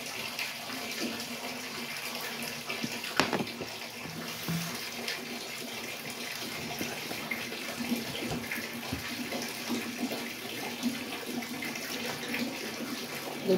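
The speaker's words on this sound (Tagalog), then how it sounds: "Iipon up ako ng tubig kasi laging mamaya wala na naman tubig." Tap water runs steadily into a container as water is collected in the morning, a constant close splashing stream with a few small knocks and clunks and no talking.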